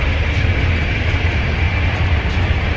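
Interior of a passenger train running from Poznań toward Berlin, a continuous loud low rumble of wheels and carriage noise with an even, unbroken drone.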